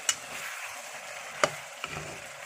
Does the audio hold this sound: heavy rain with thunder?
no